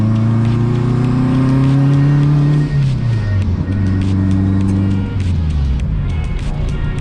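A turbocharged Honda Accord wagon on a temporary, not fully tuned setup revs loudly up close, engine pitch climbing, dropping and rising again with crackly breakup.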